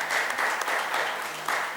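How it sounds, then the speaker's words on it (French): An audience applauds to welcome a guest at a conference on Africa, a steady wash of clapping throughout from a crowd at moderate distance. "sous vos applaudissements, je vous invite à accueillir M. Tidjane Tall"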